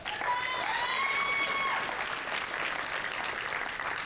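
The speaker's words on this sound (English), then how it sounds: "Give him one more round of applause." An indoor crowd at a powerlifting national championship applauds steadily, a dense wash of clapping with a few scattered whistles and shouts that holds at an even level throughout.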